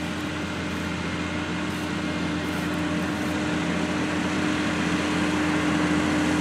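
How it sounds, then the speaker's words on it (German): Deutz tractor spreading fertiliser in light wind, a steady engine drone with a constant tonal hum, moderately loud and unbroken throughout, with no voices. "So ein wunderschöner Deutz-Traktor."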